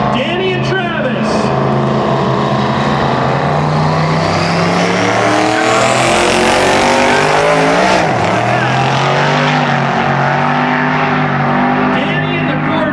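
Rear-wheel-drive drag race cars, including a Corvette, roar down the strip in the final round of a street car meet, a loud, sustained engine howl that rises and falls as they pass, with commentary over it.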